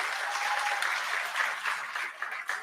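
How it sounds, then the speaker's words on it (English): Audience applause at a youth symphony orchestra concert event, a dense, even wash of many hands clapping at moderate volume, heard from within the hall with no speech over it. "Give them a round of applause"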